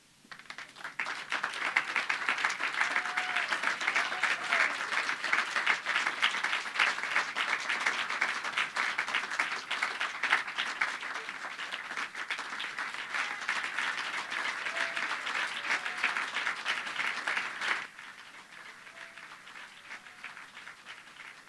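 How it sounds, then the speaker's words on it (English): An audience at a museum and science center funding ceremony gives a long, rousing round of applause, steady and full for most of its length. It then thins abruptly to lighter scattered clapping near the end. "give a really rousing round of applause here"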